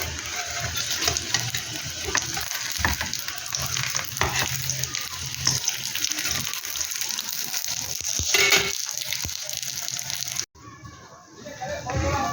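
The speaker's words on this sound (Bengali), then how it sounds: "এই একইভাবে আমি আবার ভেজে নেব" Aloo paneer parathas frying on a hot pan, a continuous close sizzle with occasional stirring scrapes, faint talk underneath, ending with a sudden cut to quieter sound.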